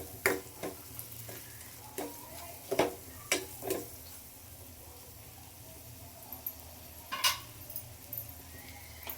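Soya chunks gravy masala sizzling and frying in a pan, a soft steady hiss broken by irregular sharp clinks and scrapes of a spoon stirring against the pan, close and fairly quiet.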